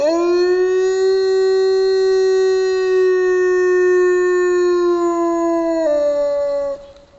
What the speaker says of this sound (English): It's a wolf, and it's howling right into a remote wildlife camera.